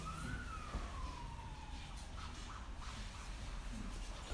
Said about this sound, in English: That set the siren off, didn't it?